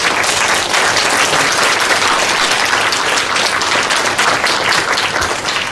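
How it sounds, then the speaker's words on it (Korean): Loud, sustained applause from an audience at a Korean school social work forum, thick continuous clapping that holds steady for nearly six seconds with no talking. "격려의 박수 부탁드리겠습니다"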